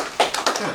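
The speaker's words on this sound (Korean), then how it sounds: "박수 쳐주실래요?" Scattered clapping from journalists at a government press briefing on a city budget, a few brief bursts of hand claps over under one second, fairly close and moderately loud, with no talking.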